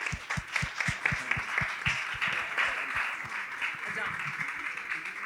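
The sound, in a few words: audience applause for a spoken word performer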